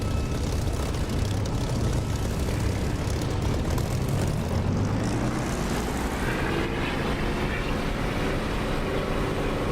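Spitfire propeller fighter taking off in the DCS flight simulator, a steady loud engine drone with rising propeller tone over the full length, no talk.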